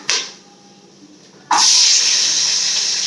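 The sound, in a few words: onions and green chillies frying in a pot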